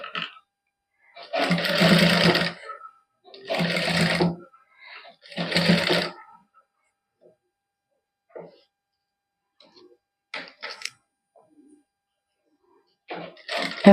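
A sewing machine stitches the neckline of a cotton suit in three loud whirring bursts of about a second each, separated by pauses, followed by quieter clicks and handling noises.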